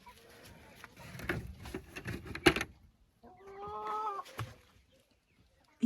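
A grey Silkie hen clucks in a chicken coop, a run of short throaty clucks followed by a brief pause and then a more drawn-out, tonal burst of calls.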